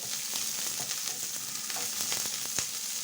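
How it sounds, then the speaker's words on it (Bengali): Sliced onions with green chillies fry in hot oil in a pan, giving a steady close sizzle with scattered crackles and pops throughout and no voices. "পেঁয়াজ ভেজে নেব"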